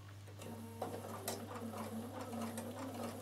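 Bernina sewing machine fitted with an edge stitch foot, understitching the neck edge of a dress with a steady, quiet, close mechanical hum and faint rhythmic ticking, running continuously with no talking.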